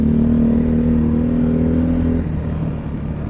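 An off-road motorcycle engine idles or runs steadily on a Colorado trail, a loud close drone with a strong steady tone that drops in pitch and eases slightly near the end.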